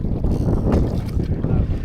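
A round coracle moves on the Kaveri river at Talakadu, with close, steady rushing and wind-buffeted water noise filling the short stretch, no voices.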